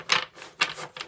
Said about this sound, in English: Just going to shuffle a little bit more till I feel like it's time.